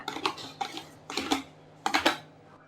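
Eggs and coconut milk being mixed in a bowl for a coconut cake batter, heard as four quick bursts of rapid clinking and tapping from a utensil against the bowl, close and fairly loud, with short pauses between.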